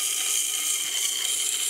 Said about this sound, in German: Das CBN-Rad schleift praktisch von ganz alleine.